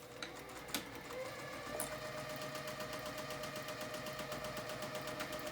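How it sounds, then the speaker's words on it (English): A home sewing machine runs steadily, stitching a half-inch seam on a dress at a tight stitch length, its fast mechanical chatter close and continuous with a few sharp clicks near the start. "Now you'll go to your sewing machine and attach them together"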